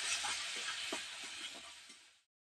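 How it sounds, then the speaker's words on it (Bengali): Onion with chopped chili and salt fries in a pan while being stirred, a soft, close sizzle with small scraping clicks that fades out at the end. "পেঁয়াজটাকে আমি একটু হালকা করে ভেজে নিয়েছি, লাল লাল করে"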